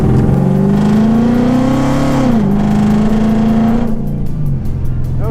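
A 2011-plus S197 Mustang 5.0 V8 fitted with an AIRAID cold air intake revs at full throttle on a dyno, a loud, steady engine drone rising in pitch, dipping, then holding before easing off near the end.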